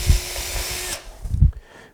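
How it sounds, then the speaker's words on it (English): A power drill bores holes through a birch bark basket near a clothespin, a loud close whirring burst that cuts off, then a second short spin-up. "So I take this drill and I use a drill and I go right like a 1/2 inch down from the clothespin. And I drill."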